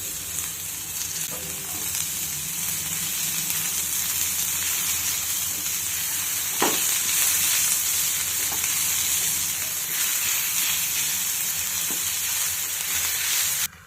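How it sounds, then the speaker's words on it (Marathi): Onion, tomato and green chili sauté in a pan over low gas, giving a steady, close sizzle and hiss with occasional soft stirring scrapes and clinks throughout, no talking. "हे मी सर्व मंद गॅसवरती परतून घेत आहे"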